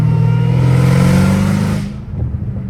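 A straight-piped Dodge Hellcat Redeye revs loud and close, its deep engine roar holding steady before dropping off into a rougher idle near the end.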